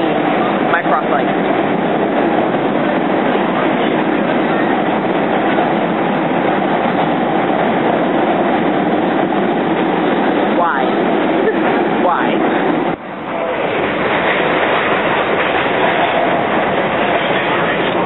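Riding inside a moving train: a steady, loud mechanical rumble with occasional clicks and squeals from the wheels, and a faint murmur of voices in the carriage.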